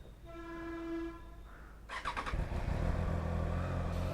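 A starter whine with a harmonic tone gives way to a Triumph Trident 660 motorcycle engine catching and idling with a loud, throbbing exhaust rumble close by.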